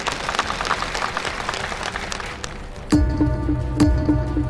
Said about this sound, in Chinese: 大家给我点掌声。